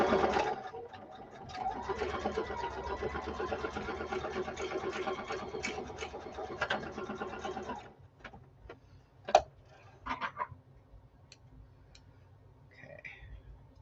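A sewing machine stitches a drawstring bag in a steady, fast mechanical whir for several seconds. It stops, and then come scattered clicks and light handling taps.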